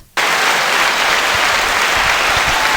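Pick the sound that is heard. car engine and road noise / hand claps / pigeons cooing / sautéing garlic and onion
hand claps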